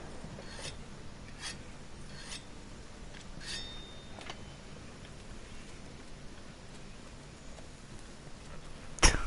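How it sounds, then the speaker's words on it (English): Dual blades are sharpened on a whetstone in Monster Hunter World: a series of rhythmic rasping scrapes at a steady pace over faint background ambience, ending with a sharp, loud hit. "I think I want to sharpen again"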